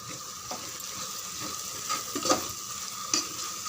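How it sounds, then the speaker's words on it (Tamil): Masala sautéing in a pan with chilli powder and turmeric, a soft continuous sizzle broken by a few spoon scrapes and taps against the pan, close by and without speech. "இது பாருங்கள், நல்லா வதங்கிட்டு இருக்கு."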